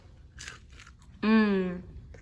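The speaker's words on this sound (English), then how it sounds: "I'm going to take a bite, just hear the crunch" A couple of soft crunchy bites into a fried potato and jalapeño bhaji up close, followed by a voiced murmur of enjoyment.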